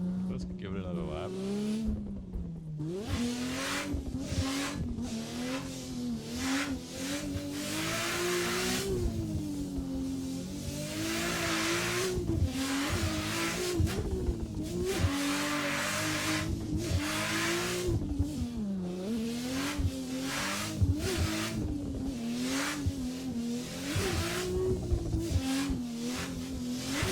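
A car fitted with the Tsujigiri drift mod laps a track in a video game, its engine revving and wavering continuously while tires squeal through long slides, loud and sustained throughout.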